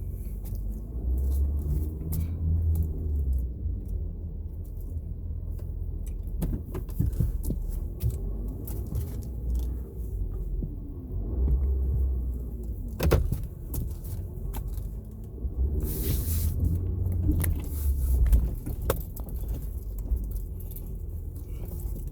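A 2019 Ford F250 XLT Powerstroke diesel 4x4 crew cab pickup, with no trailer hitched, drives a loop. A low, steady engine drone is heard from inside the cab, along with occasional thumps and rattles.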